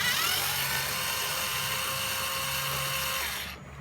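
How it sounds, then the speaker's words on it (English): A power tool with a 10mm socket undoes the cabin filter housing screws on a Mercedes E350, giving a steady high whirring drone that runs for about three seconds and then stops, with no talking. "we're going to have to unscrew. So we're going to just use a 10mm socket on this now."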